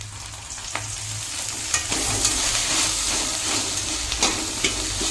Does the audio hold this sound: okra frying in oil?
yes